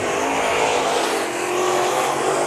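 Modified race cars roar past at speed on the final lap of a heat race at Bakersfield Speedway, a loud, continuous engine howl with no break.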